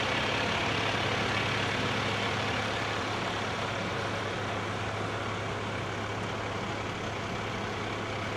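A Jefferson City Fire Department fire truck idles in a Christmas parade, its steady low engine rumble loud and continuous under a broad outdoor wash of noise.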